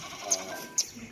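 A goat at a goat farm gives two short bleats about half a second apart, fairly near, over a quiet background hum.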